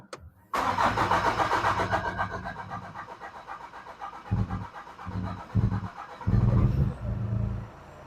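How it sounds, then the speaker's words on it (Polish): A VW Passat B8 2.0 TDI diesel fires up after a timing belt job: a brief crank, then a sudden loud catch settling into a steady idle with several uneven surges and dips close by. "Odpalił. Ładnie pracuje, cichutko na razie."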